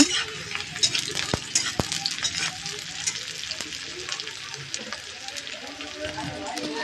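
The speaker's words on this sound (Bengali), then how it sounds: "এবার এগুলোকে আমি একটু ভেজে নিব বেশি ভাজবো না আর কি হালকা মতন ভেজে নেব" Green chillies fry lightly in a pan with a soft continuous sizzle and occasional sharp clicks and scrapes of a utensil against metal, fairly quiet and close, with no clear talking.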